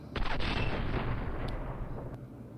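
An M2 Browning heavy machine gun fires, heard as a loud, dense burst of booming reports that merge into a sustained roar lasting a couple of seconds, with no talking.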